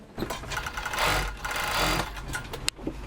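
Sewing machines stitching warm balaclavas and thermal underwear from microfleece run in continuous, rhythmic whirring bursts that rise and ease in speed, heard close and fairly steady.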